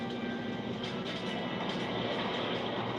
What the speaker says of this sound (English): British Swordfish torpedo bombers swooped in.